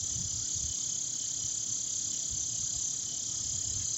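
Constant high-pitched insect buzzing, like cicadas droning, steady and unwavering with a faint low rumble underneath.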